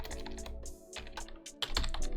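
Rapid typing on a computer keyboard, close and crisp, with quick irregular key clicks and a slight pause before a final burst.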